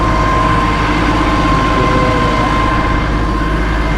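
An AGCO 245-horsepower engine on a Rogator 645 crop sprayer runs steadily, a loud, constant low-pitched drone with a faint tonal whine above it, close by and with no talk.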